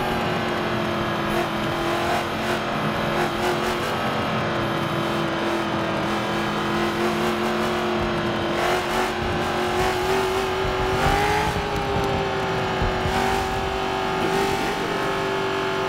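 Race car engine in a racing video game revving and accelerating hard, a loud continuous engine whine rising and falling in pitch through gear changes, with no talk.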